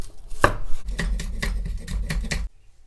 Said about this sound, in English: Nothing special, just chop it up.